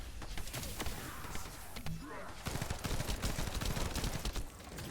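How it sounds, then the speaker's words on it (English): Rapid gunfire from the video game The First Descendant, dense crackling bursts of shots that run almost continuously with a few heavier impacts, loud and close throughout. "We do have to shoot this guy in the face."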